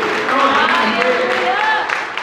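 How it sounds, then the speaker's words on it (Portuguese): A church congregation gives a loud, sustained round of applause during a sermon, the steady clapping mixed with raised voices and cheers from the worshippers. "Vamos dar uma salva de palmas a Ele."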